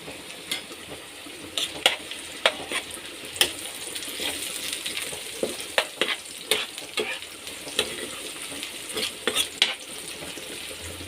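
Rohu fish pieces and pumpkin sizzle steadily in hot oil, with repeated sharp scrapes and clinks of a spatula stirring the pan, close and fairly loud, with no talking.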